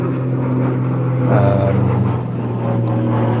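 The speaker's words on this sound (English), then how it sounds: "there was a plane overhead again" An airplane passing overhead on a nice evening aboard a boat, a steady low drone rising slightly mid-clip beneath a constant engine hum, fairly loud and continuous with no talk.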